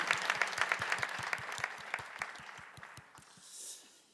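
Church congregation at a Friday night worship service clapping in applause, a fairly sparse, rhythmic patter of hands that gradually thins and fades toward the end.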